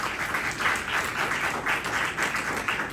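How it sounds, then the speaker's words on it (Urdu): A church congregation claps steadily in loud, sustained applause, a dense wash of many hands throughout, with no talking. "زوردار تالیاں خدا کے جلال."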